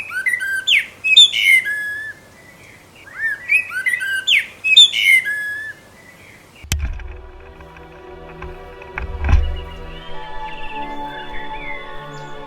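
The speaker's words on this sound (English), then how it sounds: "We had one blackbird that had a very distinctive melodic tune." A blackbird sings a melodic, distinctive phrase of clear whistled notes, repeated in bursts near the microphone, before the sound cuts to a duller, cluttered background with a few thuds and faint tonal traces.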